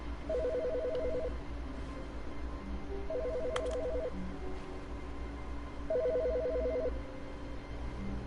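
A telephone rings in the video game The Stanley Parable, three evenly spaced bursts of electronic trilling over a low steady room hum, with no talking.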